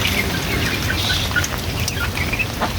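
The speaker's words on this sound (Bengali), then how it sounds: "জানি এই সময় বৃষ্টি হয়, বৃষ্টি হচ্ছে সব জায়গায়" Steady rain falls outdoors in an even, continuous patter, with small birds chirping faintly in the background.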